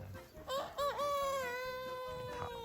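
Free-range native chickens on a farm, ranging out under a chestnut tree: a near, drawn-out crow-like call rises and falls over a couple of seconds amid softer clucking.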